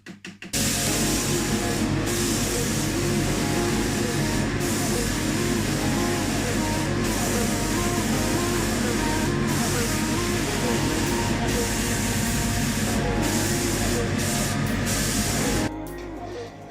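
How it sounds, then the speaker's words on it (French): Spray gun laying thinned varnish onto a Honda Transalp motorcycle fuel tank, a loud steady hiss held nearly unbroken for about fifteen seconds before cutting off. "Et quand tu passes au pistolet, pour que ça fasse quelque chose de propre, il faut forcément le diluer."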